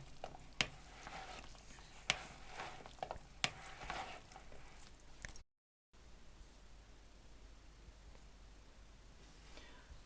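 Soft clattering and scraping of stirring a mushroom and bean salad with oil in a bowl, with a few sharper clicks of utensil against dish, quiet and close, then fading to faint rustling.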